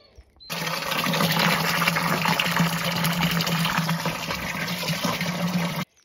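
Water runs steadily out of three outlets at the bottom of a leaking container at an off-grid home, a continuous loud rushing splash that holds for about five seconds before stopping abruptly.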